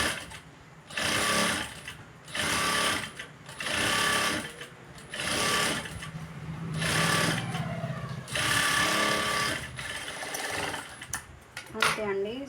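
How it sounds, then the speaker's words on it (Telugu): A sewing machine runs in repeated bursts as it top-stitches the front panel of a prince-cut blouse. Several stop-start runs of steady whirring sound close and loud, with faint speech heard between them. "ఇప్పుడు మళ్ళీ పైనుంచి ఒక టాప్ స్టిచ్ వేసేయండి"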